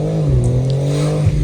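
A sports car, either a 2024 BMW M4 or a 2024 Porsche 911, accelerates hard around town, its engine a loud, steady, close droning roar with no talking over it.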